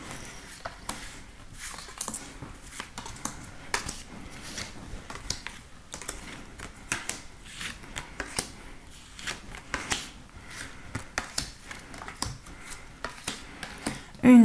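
Tarot cards are shuffled and dealt in a quick stream of soft papery flicks and riffles, steady and close, with no talking over them.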